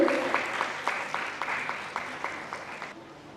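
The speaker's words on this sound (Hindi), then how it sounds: "जोरदार तालियों से स्वर का स्वागत करिए।" Brief applause at a Bhopal cultural event welcoming the director of the Hindi Sahitya Akademi, sparse, fairly rhythmic claps that thin out and stop after about three seconds.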